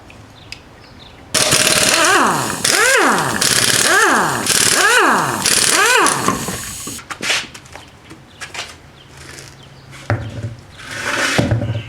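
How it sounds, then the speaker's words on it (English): Lug nuts are removed from a front wheel of a 1998 Audi A6 Quattro with a power wrench. About five loud, whining bursts rise and fall in pitch, followed by metallic clinks and clatter. "next we're going to remove these caps and lug nuts and remove this wheel"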